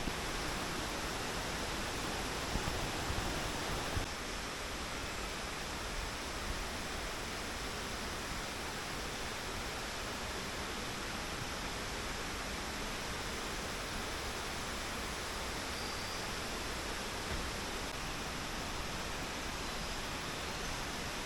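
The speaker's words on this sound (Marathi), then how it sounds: "तुम्हाला पाण्याचा आता आवाज येत असेल." Steady, dense roar of rushing water close by at a waterfall during the rainy season, a constant broadband wash with no pauses or voices throughout.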